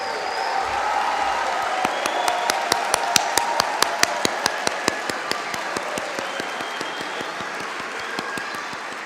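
A graduation ceremony audience applauds higher education graduates. A broad crowd patter carries a steady, rhythmic clap that grows prominent midway, then the applause eases toward the end.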